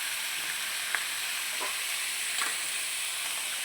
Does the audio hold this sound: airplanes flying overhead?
no